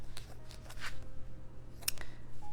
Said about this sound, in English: this cheesecloth is not the easiest to cut with dull scissors